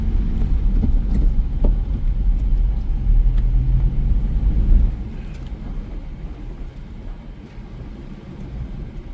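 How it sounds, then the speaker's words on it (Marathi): A car is driven on a road near a farmhouse, heard from inside as a steady low engine rumble and road noise that drops to a softer hum partway through, with no talking. "कशी गाडी चालवतो तुमची बघू शकता"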